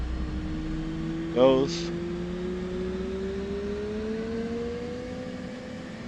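Aircraft engine on a carrier spooling up toward about 40 RPMs, a steady whining hum with rising tones that climb slowly across the clip, with one brief spoken word partway through.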